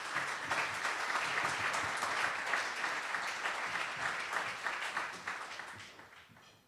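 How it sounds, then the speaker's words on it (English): Audience applause for presenters at a Minneapolis club presentation night, a lively patter of many hands clapping at moderate volume that stays full for several seconds, then thins and fades out near the end. "one last round of applause for all of our presenters"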